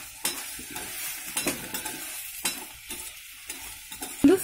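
Onion, garlic, tomato and curry leaves sautéing in a pan for fish kulambu, with a soft frying sizzle broken by repeated scraping and stirring strokes of a spoon, close by, with no talking.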